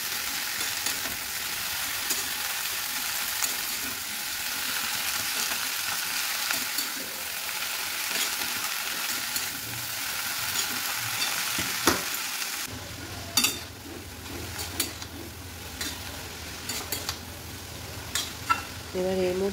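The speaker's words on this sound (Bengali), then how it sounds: "দিয়ে ভালো করে মশলার সঙ্গে মিশিয়ে নিতে হবে।" Boiled figs are stirred with spices in a frying pan, a steady close sizzle with the scrape and clatter of a spatula on the pan, growing more busy with sharp knocks toward the end.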